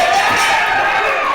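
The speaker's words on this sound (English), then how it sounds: "I did put together the "Oh no" chant that Ricky Tenacious, the Songbird of Wrestling, has got started here in the FSW Arena" A wrestling arena crowd in the FSW Arena chants in unison, a loud, sustained wall of voices filling the hall.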